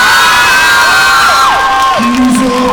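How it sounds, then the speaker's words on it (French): At a cosplay contest during a manga festival, the audience cheers and whoops loudly with high, gliding shouts from the crowd. "on n'a pas fini les tonnerres d'applaudissements pour Lily Boy, Lilyco et les Lily Boy qui ont suivi"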